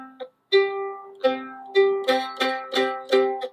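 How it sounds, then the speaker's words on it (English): A perfect fifth sounds on a keyboard instrument, played as a series of struck notes that speed up toward the end, each with bright ringing harmonics, clean and without talk. "And if we play a perfect fifth,"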